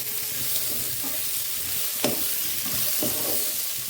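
A fried fish head being sautéed with spices in a pan, a steady close sizzle broken by a few spatula scrapes and taps, no talk.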